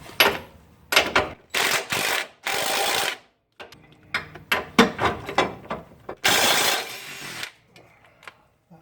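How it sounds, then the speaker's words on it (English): Two 18mm bolts are removed from a 4R100 transmission on a Ford Super Duty V10 4x4 using a power tool: several bursts of whirring ratchet or impact, separated by clicks and metallic clanks of the bolts, close and loud. "Now up here, 2 more 18mm bolts. Let's take those out"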